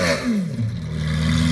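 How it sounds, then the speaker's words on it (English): A Lamborghini Aventador SV Roadster with a V12 engine and aftermarket exhaust revs loudly and close, a brief, rough burst of rising and falling engine roar. "nuts sounding exhaust"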